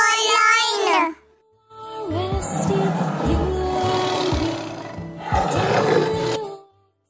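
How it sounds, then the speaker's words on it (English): A lion roars loudly in a deep, rumbling burst, then after a brief pause a longer, sustained roar follows with rough, growling texture, standing alone without talk. "L for lion. L for lion."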